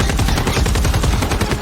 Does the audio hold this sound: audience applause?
no